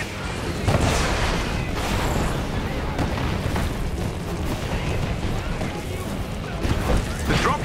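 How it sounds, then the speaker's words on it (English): Enemy artillery pounds in Marvel's Avengers, a dense ongoing barrage of booms and blasts with louder hits near the start and end, while characters talk over it. "Their artillery's targeting you."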